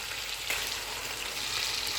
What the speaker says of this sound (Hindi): अब इसमें हम टमाटर की प्यूरी डालेंगे,